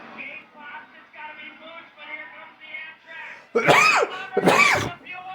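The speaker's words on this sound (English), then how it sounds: "I always sneeze at the wrong time." Talking voices, then two sharp, loud sneeze-like bursts close together near the mic, with talk resuming after.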